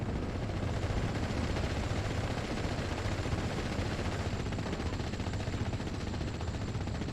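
Continuous rumbling battlefield noise from a WWII strategy game, with 25-pounder artillery and other gunfire blending into a dense, steady roar of booms and crackles at a constant loud level, no voices.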